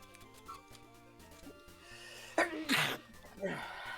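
A person sneezes, a sharp, loud burst with a short breathy lead-in, heard over background game music. A second, softer sneeze-like sound follows.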